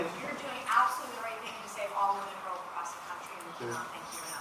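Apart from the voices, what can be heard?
No everyday noise stands out behind the speech.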